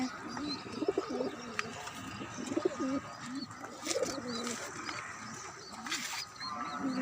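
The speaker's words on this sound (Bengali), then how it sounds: "দেখি কবুতর খাবার খাচ্ছে।" Pigeons coo while feeding among quail on a rooftop garden, soft rolling coos repeating close by over steady outdoor background noise, with other birds calling intermittently.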